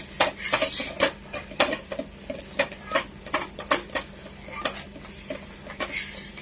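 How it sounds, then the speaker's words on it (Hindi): Ghevar batter being mixed by hand as flour is added to the bowl, with a steady run of quick clinking and tapping of a utensil against the dish, close and fairly loud, with no talking. "1/3 मैदा डाल के इसे अच्छे से मिक्स करो"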